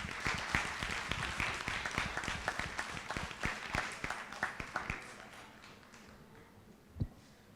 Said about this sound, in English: Another round of applause for the Deputy Borough President.